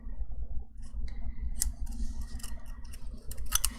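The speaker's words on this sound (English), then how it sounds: "And cut on the little fold that I made." Scissors cut sticker paper along a fold: quiet, close snips and crisp paper rustles spread across a few seconds over a low steady background hum.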